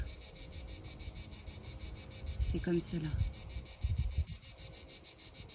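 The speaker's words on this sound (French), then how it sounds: "à l'image de cette cigale qui vient juste nous dire bonjour" A cicada sings in a continuous rapid pulsing buzz that keeps its even rhythm from start to finish, loud and close, while someone speaks briefly over it partway through.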